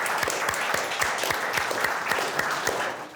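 Seminar audience claps for a speaker at Stanford, a steady wash of many hands with a few sharper individual claps standing out, moderately loud and continuous throughout.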